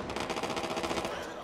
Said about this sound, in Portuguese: Começou o tiroteio.